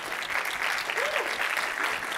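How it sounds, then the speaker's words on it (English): A crowd at a Bitcoin conference applauds steadily and loudly throughout as speakers come on stage, dense clapping filling the room with a brief whoop or voice rising in the middle. "Do we clap them as they come on stage?"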